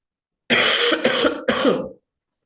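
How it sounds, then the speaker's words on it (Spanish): Three harsh coughs in quick succession, loud and close, forming a short coughing fit with no talking, during a lecture. "me agarró un exceso de tos"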